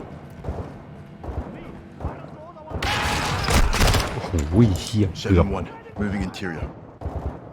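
Loud, close bursts of rapid gunfire in Call of Duty: Modern Warfare 2, with a man exclaiming over the shots.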